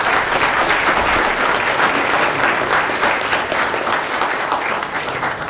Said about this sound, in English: So, round of applause for these 5 students.